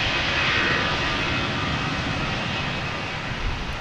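An American Airlines Airbus A319 jet arriving from Monterrey roars at DFW Airport, a loud, steady engine rumble that fills the whole moment with no voices over it.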